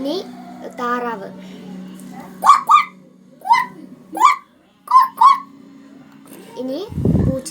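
A human voice imitates a duck as a mimicry act at a school arts festival, with a string of short, nasal quacks in uneven pairs, close and clear, then a brief low thump at the end.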